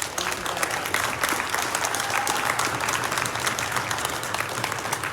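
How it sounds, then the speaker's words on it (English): A large audience at a Targeted Justice 2024 conference event bursts into sustained, dense applause that stays loud and steady throughout, with a faint crowd murmur underneath. "Please give them a warm round of applause"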